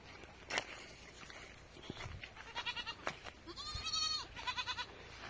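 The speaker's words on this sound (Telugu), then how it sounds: "మేకలు మనం మేకల కాడికి వచ్చినాం ఈరోజు." Goats at a waterside pasture bleat in a series of short, wavering calls, a few nearby and fairly loud over a quiet outdoor background, with occasional footsteps and soft scuffs between them.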